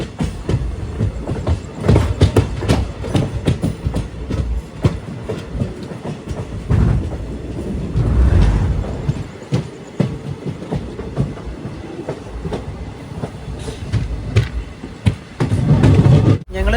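Rajya Rani Express pulling out of Thiruvananthapuram North station, heard from on board: rolling rumble and clickety-clack of wheels over rail joints, rising and falling with occasional louder clanks.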